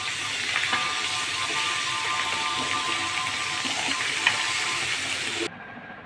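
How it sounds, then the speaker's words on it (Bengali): Sweet saffron rice with two tablespoons of ghee being stirred in a frying pan, giving a steady close sizzle and hiss with faint scraping, cutting off abruptly near the end. "এখন নাড়তে হবে।"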